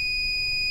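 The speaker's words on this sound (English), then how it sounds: "it gives an audible beep once it's done to tell you to pull up" A PowerPress HPM-1515-BK heat press timer lets out one steady, high electronic beep when pressing is done, loud and close, cutting off sharply.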